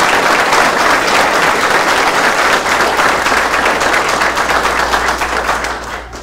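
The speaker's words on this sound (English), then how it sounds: "So let's give him a round of applause." An audience applauds loudly and steadily at a fire department pinning ceremony, with dense clapping that fades slightly at the end.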